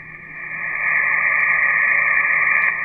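An ICOM IC-7300 shortwave transceiver tuned to the 7 MHz band puts out a steady hiss and tone that swells slightly after the first second, then holds even with no voices.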